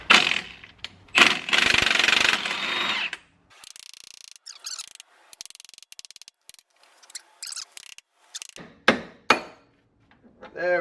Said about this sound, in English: Pickle fork always does the job.